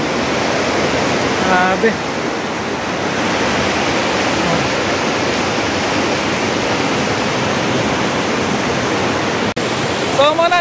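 A creek in Davao flows steadily with a broad, constant rush of water. The sound continues throughout, with brief voices breaking in near the start and the end.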